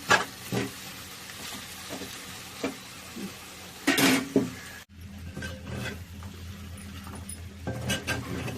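Fish fry stirring in a hot pan, steady low sizzle with sharp scraping and clinking of a spoon against the metal, a few louder stirs spaced out over several seconds.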